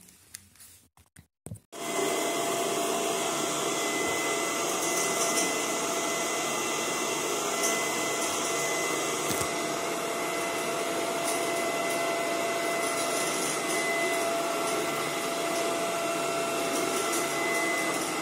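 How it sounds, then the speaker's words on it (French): A Xiaomi Viomi VXRS01 robot vacuum cleaner switches on after a few knocks and runs with a steady, even whir and hiss, close by and unchanging for a long stretch. "j'ai acheté cet aspirateur car il peut passer sous les meubles"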